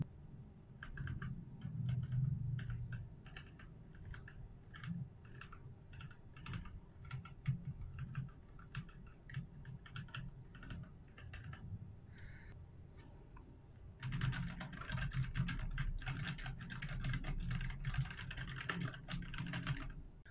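Steady typing on a Royal Kluge RK68 keyboard fitted with brown switches, dense clacking keystrokes close up, growing busier and louder in the final stretch, with no voices.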